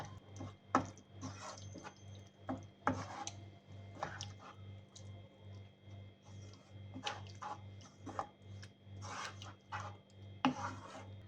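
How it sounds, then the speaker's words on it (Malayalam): A spoon stirs curd into beetroot pachadi in a pan, giving repeated soft wet scraping and squishing strokes at an irregular rhythm, close and fairly quiet over a steady low hum, with no talking. "തൈര് ചേർത്ത് നന്നായി മിക്സ് ചെയ്യണം."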